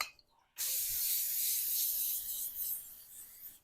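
After a short quiet moment, an aerosol can of cooking spray lets out one long, close hiss of spray that fades near the end.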